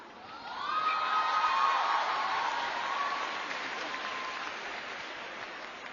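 Audience applause with a few whoops breaks out at the Singapore Smash 2025 table tennis quarterfinal between Wang Chuqin and Patrick Franziska, a sustained clapping wash that swells quickly, then slowly thins across the arena.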